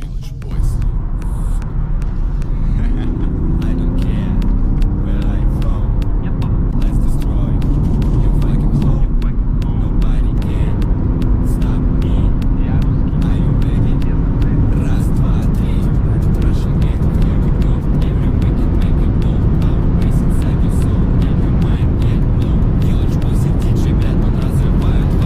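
BMW 330d Touring wagon running flat out on an unrestricted German autobahn, a loud steady engine drone with heavy wind and road roar filling the whole stretch, while someone talks over it.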